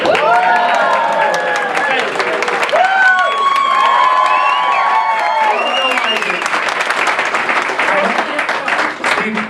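An audience at a comedy roast claps and cheers loudly, with whoops and shouted voices rising over the steady applause, which tapers off near the end.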